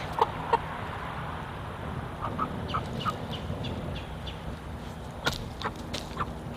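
Meat chickens cluck and squawk in scattered short calls over a steady outdoor background hum, some nearer and sharper, others faint.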